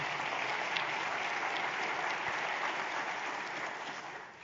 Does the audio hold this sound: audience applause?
yes